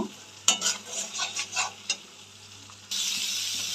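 Spices with salt and turmeric are being sautéed in a pan for a Bhola fish curry, with a run of scraping stirring strokes over a soft sizzle, then a steady louder hiss near the end.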